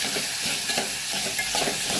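Potato chips sabzi stirred in a pan: continuous scraping of a spoon through sizzling potato slices in hot oil, close and steady, with a gentle repeated stirring rhythm and no talk.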